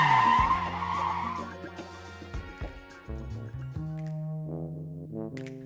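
A truck tears away with tires skidding and squealing, a loud, continuous screech that wavers in pitch for several seconds.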